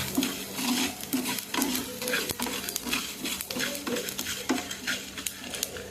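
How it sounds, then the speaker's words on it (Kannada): Black pepper frying in a pan for chicken sukka, brisk repeated spoon scrapes and clinks over a light crackling sizzle, close and fairly busy, with no speech. "ಇದನ್ನು ಚೆನ್ನಾಗಿ ಫ್ರೈ ಮಾಡುವ"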